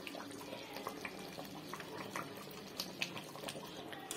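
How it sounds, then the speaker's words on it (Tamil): A thick Tamil fish curry (kilicha meen kulambu) bubbling in a pot as it boils, heard as a steady low simmer with a continuous run of small pops and bursts and no voice present. "பாருங்க நல்லா கொதிச்சிருச்சு குழம்பு நல்லா திக்கா வந்துருச்சு"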